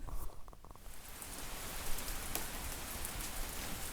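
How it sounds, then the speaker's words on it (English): Steady rain falls in California, a soft, even hiss of drops on surfaces that continues without a break. It sounds moderately distant, with no voices. "But first, we had another 7 days of rain."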